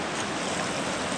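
A river rushes steadily in a canyon, a dense continuous wash of flowing water, loud and close with no voices.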